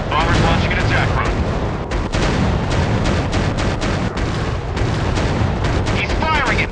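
Dense gunfire and booming bomb blasts from an airplane war video game fill the soundscape continuously, loud rapid bursts with heavy explosions over a constant roar.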